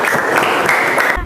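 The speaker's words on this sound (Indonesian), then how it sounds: "Tepuk tangan dong." A classroom of students claps together for about a second, a brief dense burst of applause that cuts off abruptly.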